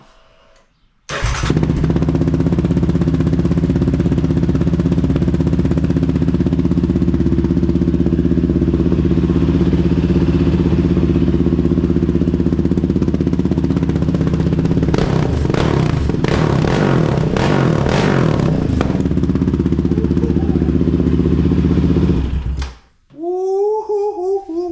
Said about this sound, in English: This cold start the monster exhaust.